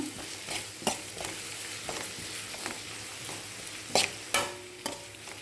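Ingredients for tomato bath sauté in a hot pan, a steady sizzle broken by irregular scraping clicks of a spoon stirring, close and moderately loud with no voice over it.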